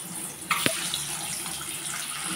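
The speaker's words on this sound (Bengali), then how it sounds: "হলুদ লবণ দিয়ে মাখিয়ে এখন ডিমগুলোকে আমি ভেজে নিচ্ছি" Eggs coated in turmeric and salt fry in hot oil, a steady broadband hiss of sizzling with a sharp crackle and splash as they hit the pan, running on evenly and close by with no voices.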